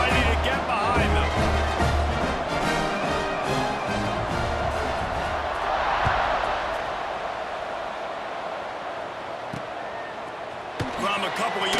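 A stadium crowd in the college football video game EA Sports College Football 26 roars steadily through a kickoff after a touchdown, a loud, dense wall of cheering that swells midway and holds to the end.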